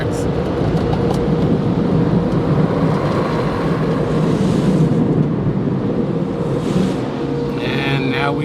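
Car wash wind tunnel air dryers blasting over a vehicle, a steady loud roaring rush of air that fills the whole stretch without letup.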